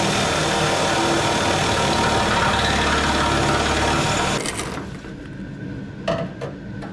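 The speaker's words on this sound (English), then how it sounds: "I am just using regular drill bits for this" A power drill fitted with regular drill bits whines loudly and steadily while drilling, then cuts off, followed by quieter clatter and a few sharp knocks.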